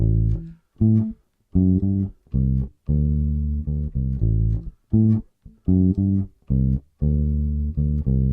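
A clean bass guitar plays a repeating blues riff of short and held notes with brief gaps, close and clear, no voices.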